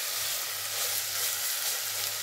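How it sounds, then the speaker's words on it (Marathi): Sliced onions sauté in a pan with half a spoon of sugar while making chicken biryani, giving a steady, close hiss of sizzling oil that runs unbroken and without speech. "असा परतून झाल्यानंतर त्यामध्ये अर्धा चमचा साखर घालायची आहे"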